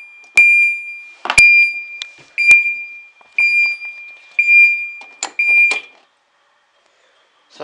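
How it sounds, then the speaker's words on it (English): A fire alarm sounds in repeated high electronic beeps, with a few sharp clicks and pauses between bursts, loud and close. "Something happened with this alarm."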